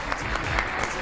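Studio audience on a Pakistani morning show applauds to welcome a guest, a short steady burst of clapping that fills the room at moderate level.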